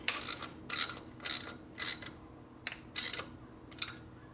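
A bolt on a 1967 74ci Harley shovelhead FLH is tightened with a ratchet in about seven short, evenly spaced bursts of clicking, close and clear against a quiet background.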